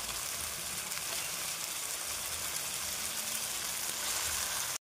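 Meat frying in spiced onions in a hot pan: a dense, steady sizzle and crackle throughout, close and even, with no voices, cutting off abruptly at the end.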